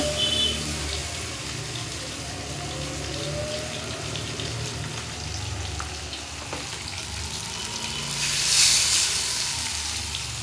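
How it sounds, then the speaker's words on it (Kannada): Masala-coated fish pieces frying on a hot tawa in a coastal-style fish fry, giving a steady, moderately loud sizzle throughout with a brief rise in hiss near the end, no talking. "ಇವಾಗ ತವ ಫ್ರೈ ಮಾಡೋಣ ಎರಡು ಕಡೆ ಮಸಾಲ ಚೆನ್ನಾಗಿ ಹಾಕ್ಕೊಂಡು ಒಂದೊಂದೇ ತವದ ಮೇಲೆ ಇಡೋಣ"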